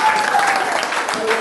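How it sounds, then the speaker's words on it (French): Loud, dense applause from a church congregation, steady throughout the brief moment, with a voice faintly audible underneath. "Applaudissons pour le Seigneur."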